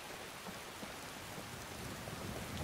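Steady rain in the Skyrim video game outside the city of Whiterun, a continuous hiss of falling drops with soft patters, moderately loud and unbroken, with no voices.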